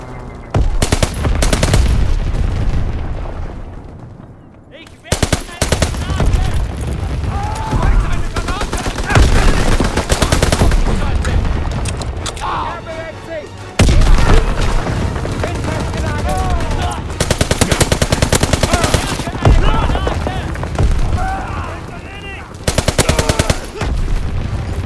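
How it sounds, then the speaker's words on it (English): Anti-aircraft guns pound away in Call of Duty: WWII, loud continuous automatic bursts with booming shots and chattering fire that run almost without pause, dropping briefly before roaring back in a heavy barrage. "Anti-aircraft fire."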